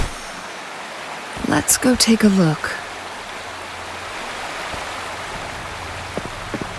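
Waterfall rushing in Wuthering Waves, a steady broadband hiss of falling water throughout, briefly joined by a short spoken phrase.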